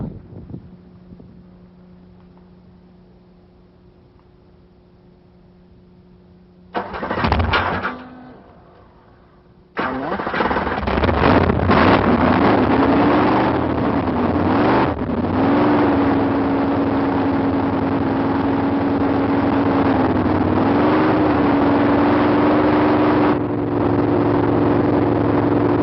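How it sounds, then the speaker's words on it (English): A car engine fitted with a Barry Grant Demon carburetor cranks briefly, catches with a loud burst, then settles into a steady, rumbling idle with slight wavering in pitch, close to the microphone. "let's go ahead and start the engine now"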